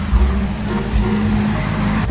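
Cars roll past at a road border crossing between Estonia, Latvia and Lithuania, a close, steady engine and tyre rumble with a low hum.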